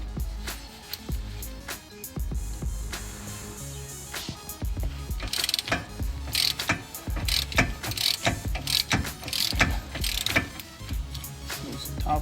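A ratchet working loose the 15 mm bolts on the rear brakes of a Ford Explorer, fast clicking pawl bursts in repeated strokes, close and clear with no speech.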